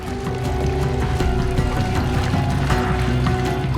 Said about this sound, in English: Fortunato takes the mixture of water, mercury and gold to a sink.